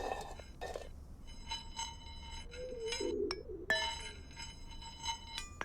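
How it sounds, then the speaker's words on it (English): Pigeons cooing softly at mid distance, a few low murmuring coos alongside faint chirps and clinks in a quiet outdoor setting with no talking. "I also quite like the noise of the pigeons."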